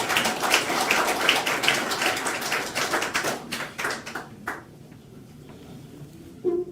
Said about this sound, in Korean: 박수로 맞아주시고요